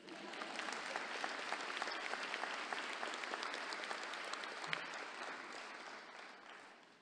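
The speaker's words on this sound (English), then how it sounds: "Yeah, you can clap for that." Steady applause from a large commencement audience in a hall, many hands clapping at an even level for several seconds before gradually fading, heard at a moderate distance.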